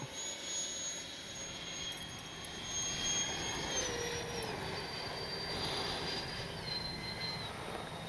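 An FMS 70mm Thunderbolt V2 RC electric ducted-fan jet makes a flaps-down pass, its steady high whine gliding through pitch changes at moderate loudness, with outdoor wind rumble underneath.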